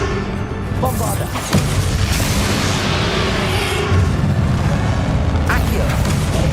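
Bombarda explosion spell cast in the Hogwarts Legacy video game, a loud booming blast with rumbling debris over dense battle noise and music, with a voice speaking over it.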